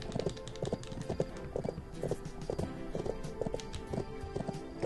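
Galloping horse hooves in a Bibi & Tina horse-farm video game race beat out a steady, quick, repeating clip-clop rhythm, loud and constant over a dense background of game music and sound effects.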